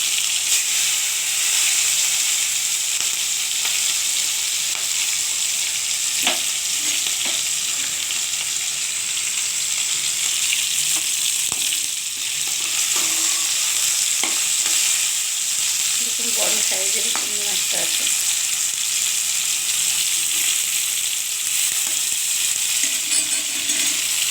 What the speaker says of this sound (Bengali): আমি এবার চিংড়ি মাছটা তুলে দিচ্ছি চিংড়ি মাছ ভাজতে কিন্তু বেশি সময় লাগে না